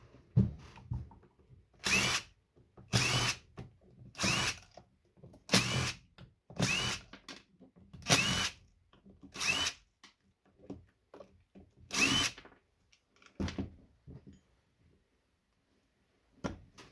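Power drill backing screws out of a hoverboard, roughly nine short whirring bursts spaced about a second apart, close and loud with quiet gaps between.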